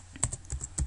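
Several quick, crisp keystrokes on a computer keyboard while entering code, close up and in an uneven rhythm of about five clicks.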